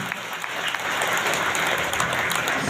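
Steady, dense applause from an audience at a ceremony honouring tenth-grade students with top exam marks and their parents, a continuous wash of many hands clapping throughout, fairly close and full, with no talking.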